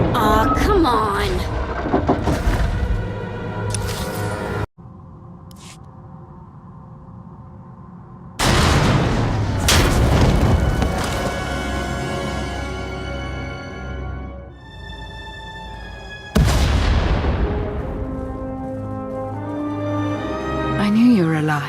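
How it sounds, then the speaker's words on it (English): Heavy explosions in Star Wars: The Old Republic, several loud booming blasts with long rumbling decays that break off abruptly and then return, with no voices over them. "We heard explosions."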